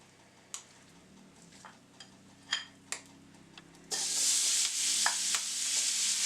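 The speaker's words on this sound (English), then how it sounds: "Add a teaspoon more of oil, and we're gonna saute the beef." Beef sizzles loudly in hot oil in a pan, a steady bright hiss that starts suddenly partway through after a few earlier clicks and taps, close and alone.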